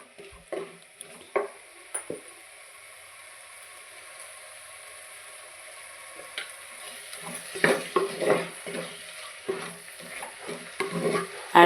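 Chili powder, turmeric and salt sizzle in hot oil in a pan for a millet and spinach kichidi, a low hiss at first, then louder bursts of stirring and crackling that grow busier toward the end, with no talk.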